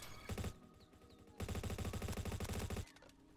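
Honey Badger rifle in the shooter game Bad Business fires rapid automatic bursts: a short burst, a pause, then a longer sustained string of loud, close shots.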